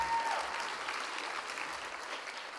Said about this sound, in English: can we have a big applause for Joe as well here?